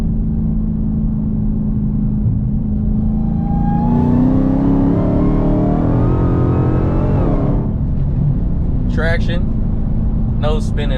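A car with street tires accelerates hard from a 60 mph roll in fourth gear, its engine note rising loud and steady for several seconds before easing off, with brief speech near the end.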